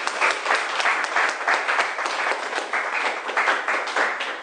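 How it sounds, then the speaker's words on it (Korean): Studio audience at a live broadcast talk show applauding, a steady dense wash of clapping sustained throughout at moderate level. "박수 한번 보내드립니다"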